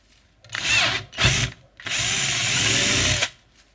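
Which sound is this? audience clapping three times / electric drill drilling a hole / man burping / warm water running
electric drill drilling a hole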